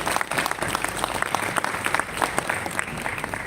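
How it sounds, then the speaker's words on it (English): Audience applause fills a session hall at the Jaipur Literature Festival as a speaker is welcomed on stage: dense, steady clapping from many hands throughout, moderately loud and close, with no talking over it. "A big round of applause for her."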